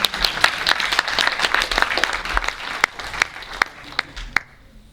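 A church congregation applauds, dense clapping at first that thins to scattered, separate claps before stopping.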